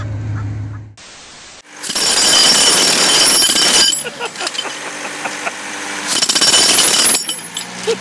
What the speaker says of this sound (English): Not how you use the jackhammer